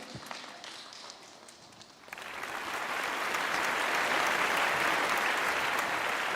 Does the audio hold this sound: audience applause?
yes